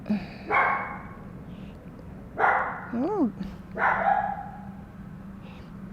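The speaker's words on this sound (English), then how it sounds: "I can't stop him to bark." A dog barks indoors during a yoga workout: three sharp barks, spaced a couple of seconds apart, with a brief whine between them, while someone talks.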